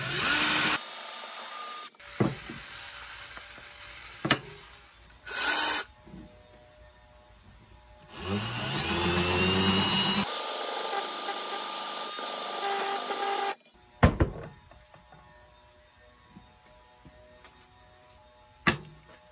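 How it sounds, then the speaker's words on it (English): Power drill countersinking a hole in a quartz paper towel holder so a nut can sit flush, heard in several short loud bursts of whirring and grinding separated by pauses and handling clatter. "I gotta countersink a hole in this guy so I can get this nut"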